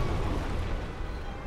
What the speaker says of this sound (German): Und die Explosion abkriegen ist noch eine viel blödere Idee.